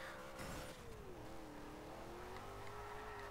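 A car drives along a sidewalk in Forza Horizon 2, its engine droning at a steady, fairly quiet level with a slowly shifting pitch as it cruises, with no speech.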